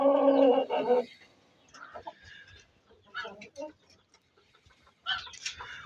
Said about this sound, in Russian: Вот курица Брама.